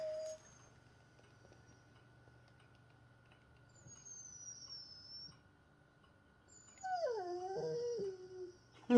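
A dog whimpering and letting out a short, wavering howl during a full moon, faint and distant over a quiet background with a low steady hum, then louder toward the end.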